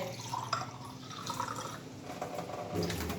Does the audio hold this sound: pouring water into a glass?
yes